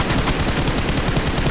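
Gunfire in the battle royale game BGMI: a fast, continuous burst of shots with a steady pulsing rhythm, loud and close, with no voices over it.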